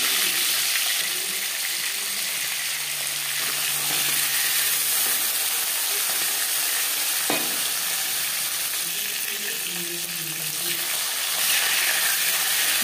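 Marinated bhola fish fries in hot oil in a wok with a loud, steady, hissing sizzle that continues throughout, with a single brief knock partway through.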